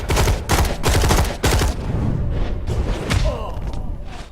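Enemy gunfire in a dark stealth video game: several loud, rapid bursts of shots and thuds in the first second and a half, then a denser, steadier clatter of combat noise that carries on to the end.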